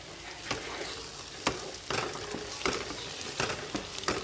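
Eggs fry in hot oil with cumin in a pan, giving a steady, close sizzle broken by periodic sharp crackles and pops, with no voices.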